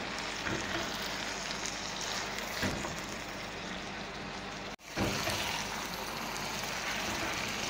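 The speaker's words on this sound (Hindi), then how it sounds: "इसे मीडियम फ्लेम करके 5 मिनट तक भूनेंगे" Grated carrots for gajar ka halwa frying in a pan over a medium flame: a steady, close sizzle with occasional stirring scrapes and one brief break midway, no talking.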